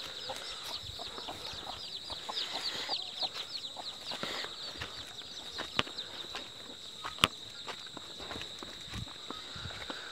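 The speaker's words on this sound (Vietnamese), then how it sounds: "Gà này gà con của nhai đấy. Gà như kiểu gà tre các bác." Small bantam-type chickens cluck in quick bursts at a rural Vietnamese homestead, with scattered footsteps and soft scuffing nearby and a couple of sharp knocks, steady outdoor background.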